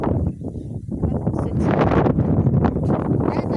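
Strong wind buffets the microphone in a continuous loud rumbling roar, gusting unevenly throughout.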